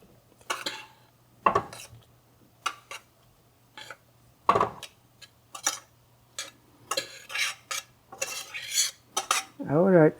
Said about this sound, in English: mix the whole thing with our fried onion